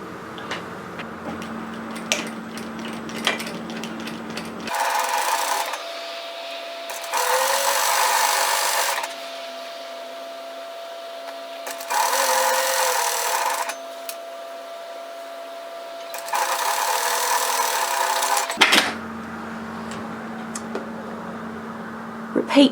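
A sewing machine stitches the underarm and side seam of a tiered dress or top in several separate runs, each a steady buzzing burst of a few seconds with brief pauses and handling noise between, close and fairly loud.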